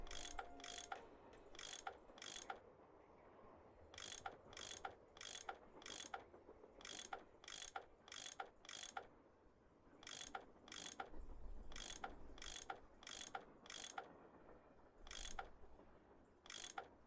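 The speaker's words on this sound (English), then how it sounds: "I bet that's what you use to unscrew these bolts." A tool unscrewing bolts in the Nancy Drew game Last Train to Blue Moon Canyon gives repeated crisp mechanical ratcheting clicks in quick bursts, a steady rhythmic series across the whole stretch, clear and alone.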